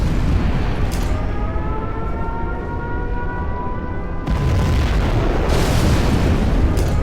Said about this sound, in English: The blast comes much later than the actual explosion.